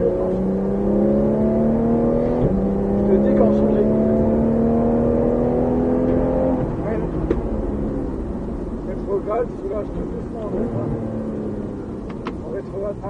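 A Porsche 911 GT3 at full throttle on a driving course, its engine rising loud and close through climbing revs, with a gear change partway and a second pull, while an instructor talks over it.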